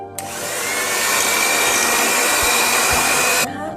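An electric mixer whips cream for frosting a birthday cake, a steady, loud motor whir that starts abruptly, holds evenly for about three seconds, then cuts off, with no talking.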